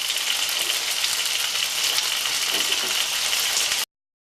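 Spare ribs frying in a pan, a steady, dense sizzle and crackle that holds at an even loudness for several seconds before cutting off abruptly, with no voices.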